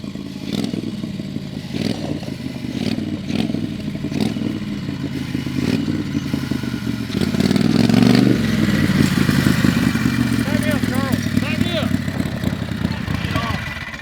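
A turbocharged 670cc V-twin motorcycle engine running on methanol rumbles and revs, swelling louder midway, with clattering mechanical noise and faint voices in the background.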